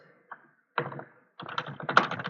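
Short bursts of typing on a computer keyboard: a lone tap, a quick cluster of clicks, then a faster run of close, crisp keystrokes over a quiet background.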